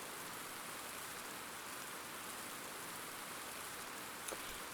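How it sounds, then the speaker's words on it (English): Steady rain falls continuously in the background, a broad even hiss of drops on surfaces with no voices and no pauses. "Shout out to the very real rain that is going on in the background right now that we can very clearly hear through the stream."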